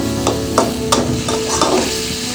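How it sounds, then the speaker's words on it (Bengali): Hilsa fish heads go into a frying spice paste in a pan and get stirred, giving a steady close sizzle with several sharp scraping stir strokes spaced through it. "ধুয়ে রাখা ইলিশ মাছের মাথাগুলো এখন এই কষানোর মধ্যে দিয়ে দিচ্ছি।"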